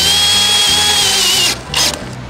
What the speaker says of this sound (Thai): รอบนี้นะครับผมก็จะเอาดอกสว่านนำไปก่อนนะ